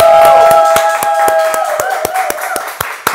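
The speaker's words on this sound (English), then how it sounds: "Let's clap it up for her 1 year" A small audience applauds for a one-year anniversary, sharp distinct hand claps in a quick irregular rhythm, close and clear, with some overlapping voices underneath at the start.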